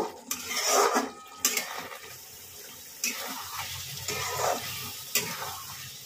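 Potol gravy stirred in a pan over a high flame, with repeated metal scrapes and knocks against the pan over a bubbling sizzle and a few sharp clanks.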